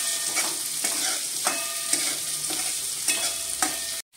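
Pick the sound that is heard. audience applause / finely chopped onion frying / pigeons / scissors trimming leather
finely chopped onion frying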